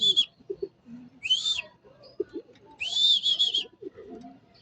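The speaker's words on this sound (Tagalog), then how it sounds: "Yan mga kaibon no." Racing pigeons arriving during a training flight in Nueva Ecija, with bird calls and whistle-like chirps in short bursts close by, amid light rustling and handling sounds.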